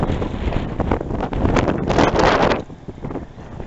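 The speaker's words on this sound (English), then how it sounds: "It's very windy." Strong wind roars across the microphone at a military camp during a storm, a loud, continuous gusting rush that swells and buffets, with no one speaking.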